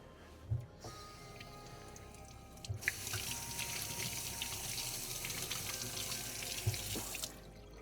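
Tap water runs over the float from an ice machine as it is washed in a sink, a steady close rushing stream with a few knocks and clunks before and after.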